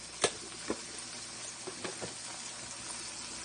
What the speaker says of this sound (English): I'm just sauteing these onions